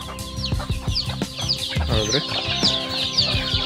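Chickens cluck steadily as they come running when called, a busy run of close, repeated clucks and squawks. A man's brief words are heard over them.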